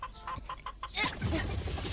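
A hen clucks in a quick run of short, rhythmic calls, then gives a louder squawk, heard fairly faintly with background noise.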